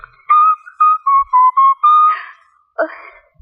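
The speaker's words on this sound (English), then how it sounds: "the best way to keep from crying is to whistle" A person whistles a short, wavering tune in several separate notes, close and clear, then gives a breathy, airy attempt at the end.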